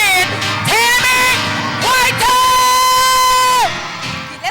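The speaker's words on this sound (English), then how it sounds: "I want you to give the biggest shout out, round of applause for the writer, the director, and the producer" A theater audience cheers and whoops for the writer, director and producer of a stage show, loud sustained shouts and high yells rising and falling in waves before fading.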